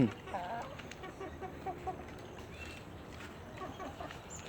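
Soft, scattered clucks from a fighting rooster (gamecock) come and go over a low outdoor farm background, fairly faint and irregular.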